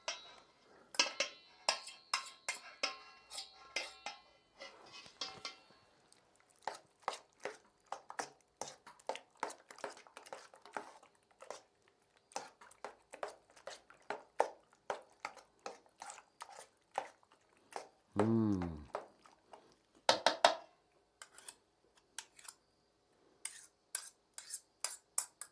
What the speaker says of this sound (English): All right, let's mix it all up here.